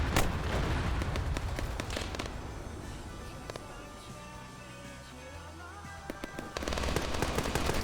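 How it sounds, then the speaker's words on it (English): A rocket detonates against a building during a military video game, loud broadband blasts mixed with rapid crackling reports and sharp pops, rumbling debris tail settling before another heavy burst near the end. "I'm going to put another rocket on top of the building they're on."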